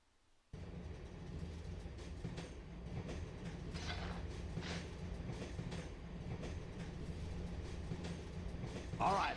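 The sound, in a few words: train riding along tracks in Dark Cloud 2 video game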